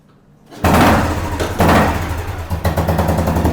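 A 1991 Royal Enfield Deluxe motorcycle engine kicks into life after a brief quiet moment, then runs loudly with a steady low rumble and uneven bursts.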